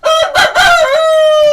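A year-and-a-half-old Hijazi rooster lets out a single loud, close crow, a long sustained call held for over a second, with no talk over it.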